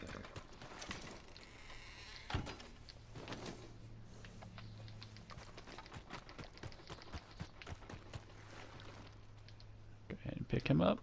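Quick clip-clop of hooves trotting along in Red Dead Redemption 2 Online amid game background hum, with a few clicks and a sharper burst near the end.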